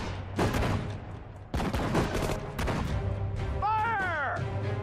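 Gunfire from the World War II strategy game Sudden Strike 4, Allied campaign at the hedgerows: dense bursts of rifle and machine-gun fire and crashing impacts across the whole stretch, loud and continuous, with a whistling shell near the end.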